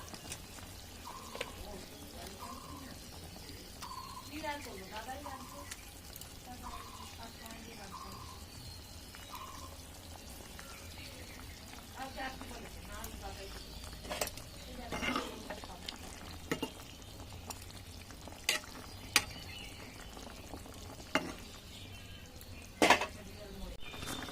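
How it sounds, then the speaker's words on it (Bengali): Snakehead fish going into a boiling curry in a kadai: faint simmering and sizzle beneath scattered clinks and scrapes of a spoon against the pan, growing sharper later on. "ঝোলটা ভালো মতো ফুটে গেছে, এবার আমি মাছগুলো দিয়ে দেবো"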